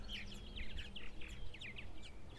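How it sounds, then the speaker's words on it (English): Purple martins call at gourd nests in the early evening, a busy run of bright chirps and twittering notes from several birds, fairly close, over low background rumble. "dozens and dozens of birds here in the early evening, just before dusk"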